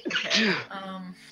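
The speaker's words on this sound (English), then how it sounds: "Gesundheit." A single sharp sneeze bursts out close and loud, then trails into a brief spoken word.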